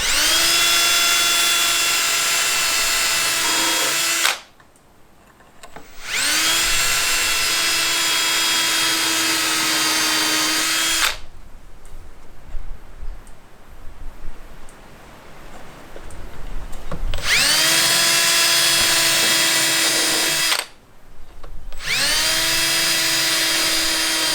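A power drill drives 2.5-inch screws into a butcher block tabletop in three long, loud whining runs separated by short pauses and a quieter stretch of faint handling noise.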